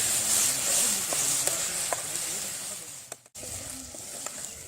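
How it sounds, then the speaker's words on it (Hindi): Ginger and garlic sizzling and frying in a pan, a steady broadband hiss with occasional stirring clicks and a brief gap near the end. "अभी हम इसमें ऐड करेंगे अदरक और लहसुन और अच्छी तरह भून लेंगे।"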